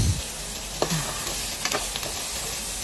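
Beef for adobo is stirred in a hot pan, oil sizzling continuously while a spatula scrapes and clacks a few times, close and without talk.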